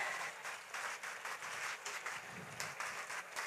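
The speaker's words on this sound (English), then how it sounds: "A big applause for these children." Applause for a group of volunteer children at a school annual day celebration, a moderately quiet patter of clapping from a modest crowd, uneven and continuous across the moment with no talk over it.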